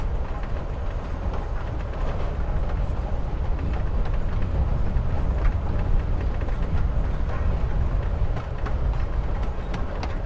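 Steady low rumble of a moving train in Life is Strange: Before the Storm, continuous rolling noise with faint rhythmic clatter, even and unbroken from start to finish.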